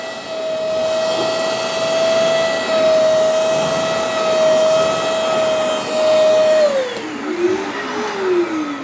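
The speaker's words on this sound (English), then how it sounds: "Now the Hoover, you got to kind of angle up." Bissell Little Green portable carpet and upholstery cleaner suctioning carpet, a loud steady motor whine that drops in pitch near the end as it powers down and winds off, with no voices.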